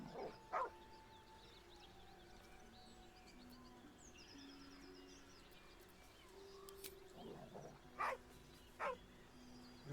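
A dog in the video game Baldur's Gate 3 gives a few short, scattered barks and yips over a quiet ambient game soundscape, soft and spaced out.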